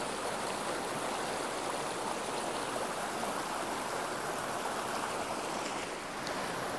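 A waterfall pours over mossy rocks, producing a dense, steady rushing roar that stays constant and fairly close throughout, with no voices.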